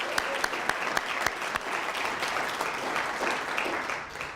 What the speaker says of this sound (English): Let's have another round of applause for our two speakers